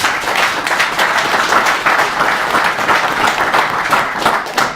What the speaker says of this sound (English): So I just want everybody to give yourselves a round of applause and these gentlemen.